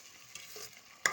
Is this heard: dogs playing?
no